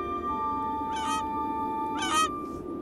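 A strange, bird-like squeaking from a bed in the point-and-click game The Whispered World, two short honking squeaks about a second apart over a steady background hum.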